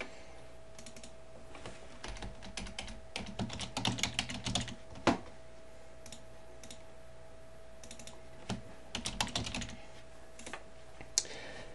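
Quiet computer keyboard typing while entering labels in concept-mapping software, clustered bursts of crisp keystrokes separated by pauses, close and alone.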